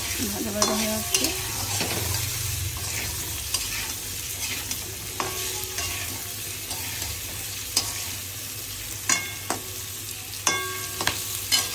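Mixed vegetables with turmeric and salt fry in a pan with a loud, continuous sizzle, broken by sharp scrapes and knocks of a spatula as they are stirred.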